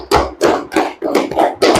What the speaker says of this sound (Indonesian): aplaus untuk teman kita